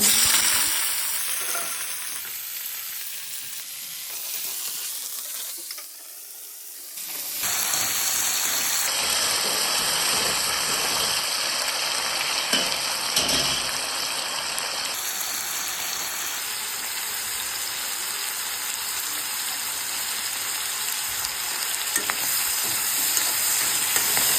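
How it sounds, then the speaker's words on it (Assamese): Panch phoron spices crackle in hot oil in a kadai, with a loud, continuous sizzle that swells after a quieter start. A high electronic whine runs over the frying, and nobody talks. "এইফালে পাঁচফোৰণ দি দিলে"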